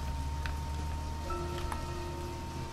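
Steady rain hiss from the video game Deadly Premonition, a dense broadband wash of falling rain with faint droplet ticks, continuous and fairly quiet throughout, no talking.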